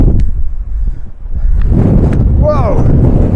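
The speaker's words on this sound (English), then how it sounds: "Really windy." Strong, gusty wind on Eldon Hill buffets the microphone with a continuous low, rumbling roar, and a brief voice rises over it near the end.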